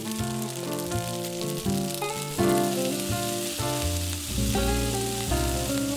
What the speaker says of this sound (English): we're gonna add some olive oil to a pan and start sauteing our tofu at medium to high heat.